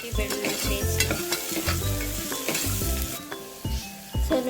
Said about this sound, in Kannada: ಸೊ ಇದು ಹಸಿ ವಾಸನೆ ಹೋಗೋವರೆಗೂ ಚೆನ್ನಾಗಿ ಫ್ರೈ ಮಾಡಬೇಕು ಶುಂಠಿ ಬೆಳ್ಳುಳ್ಳಿ ಪೇಸ್ಟ್